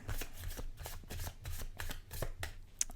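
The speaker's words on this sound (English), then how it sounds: "shuffling is a whole ordeal for me with my ridiculous baby hands." Tarot cards being shuffled by hand close up, repeated soft riffling bursts in an uneven rhythm, quiet and alone.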